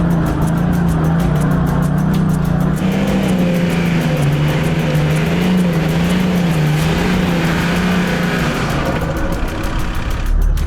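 A 4WD vehicle climbs a sand dune in the Simpson Desert, its engine droning steadily and loud with a low, wavering tone throughout, rough bumping and wind noise layered over it, with no talk.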